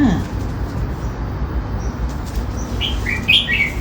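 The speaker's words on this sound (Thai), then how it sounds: "นกตัวนี้น่ารักมาก ตัวน้อยเดียวค่ะ เสียงแจ๋วจริงๆ" A red-whiskered bulbul gives a few quick, bright chirps near the end, heard close but brief over a steady low rumble of background traffic noise.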